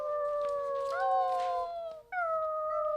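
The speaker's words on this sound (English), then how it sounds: "The wolves, listen." Wolves howl in long, drawn-out cries, with two overlapping voices holding steady pitches, a brief break, then a higher howl rising again, clear and prominent with no speech.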